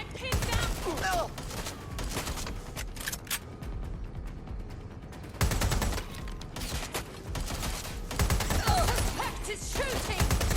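Repeated bursts of gunfire from a shooting suspect in Watch Dogs Legion, loud, sharp and close, coming in clustered volleys with brief lulls between them.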